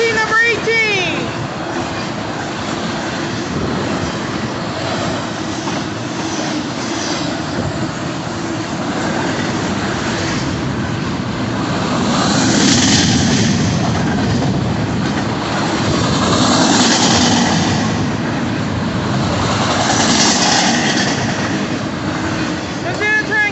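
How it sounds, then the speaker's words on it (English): A Union Pacific southbound intermodal freight train led by several locomotives rolls steadily past nearby, its cars producing a continuous rumbling clatter with rhythmic wheel clicks that swell and fade over about twenty seconds. "That's the end of that train, guys."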